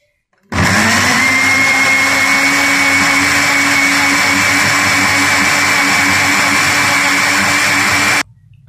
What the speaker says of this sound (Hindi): इसके स्मूद होने तक इसको अच्छे से ब्लेंड करेंगे हम।